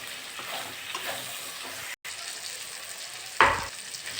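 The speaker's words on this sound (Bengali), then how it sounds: "মশলাটা কষে নেবো" Spice paste frying in oil for a potato and chicken curry, a continuous soft sizzle with stirring scrapes, a brief dropout, then a sharper louder hiss as liquid hits the hot pan.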